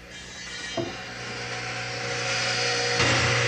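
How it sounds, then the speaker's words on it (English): A handsaw rasps through the end of a wooden board in a steady, continuous stroke, growing slightly louder toward the end, with no talk. "Trimming the end of the board"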